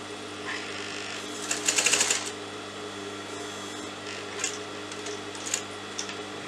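A sewing machine stitching a straight seam on a cuff sleeve gives a short rapid burst of whirring near the start, followed by quieter handling clicks and light mechanical ticks up close.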